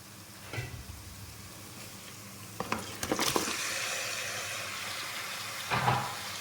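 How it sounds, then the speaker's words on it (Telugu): Chicken drops into a pan of fried ginger and bursts into a loud sizzle that keeps hissing steadily, with a few clanks and scrapes of a spoon and a second flare of sizzling near the end. "మనకు అల్లం అంతా వేగింది. సో మనం ఇప్పుడు దీంట్లో చికెన్ వేసుకుందాము."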